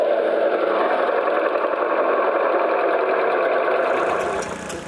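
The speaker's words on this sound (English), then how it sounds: "Has a 2-cylinder engine." Two-cylinder engine of a 1953 Lanz Bulldog Model S tractor running steadily at close range, a dense, even chugging drone that holds for several seconds before easing off slightly at the end.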